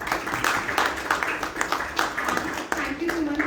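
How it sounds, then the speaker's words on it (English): A felicitation audience breaks into a sustained round of applause, a dense, continuous wash of many hands clapping close by throughout. "So a round of applause for him."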